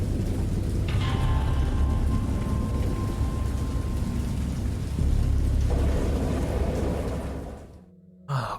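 Heavy rain pours steadily in the video game Dagon, with low thunder rumbling beneath the downpour; the storm continues loud and unbroken before cutting out abruptly near the end.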